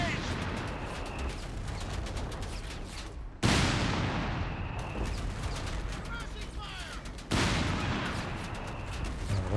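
Panzer III tank cannon firing in a World War II strategy video game, two heavy booming shots a few seconds apart, each trailing off into rumble over ongoing battle noise and distant small-arms fire.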